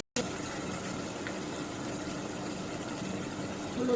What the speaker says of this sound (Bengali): একটু পানি দিয়ে দিব মশলা কষানোর জন্য